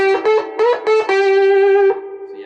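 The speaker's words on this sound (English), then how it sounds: "when I put an overdrive on it, it immediately, like, I can get a high gain sound out of it" A Gretsch G5655T-QM Electromatic Center Block Jr electric guitar played through an overdrive pedal into a small amp with an 8-inch speaker: a few quick picked notes, then a long sustained distorted note ringing out loud and alone before fading.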